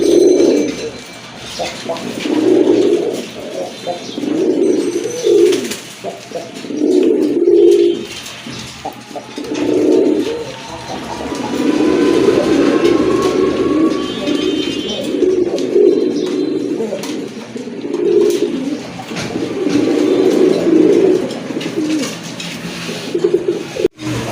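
Big-sized female gorra pigeons, including a dun-coloured boot-beaked hen, coo in repeated low throaty bursts close by, with brief pauses between phrases and faint chirps in the background.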